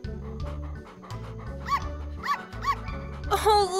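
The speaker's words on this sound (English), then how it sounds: "Oh, look, an adorable litter of puppies." Puppies in a farm litter yip and bark in short, high bursts over steady cartoon background music, with a few quick cries clustered toward the middle and end.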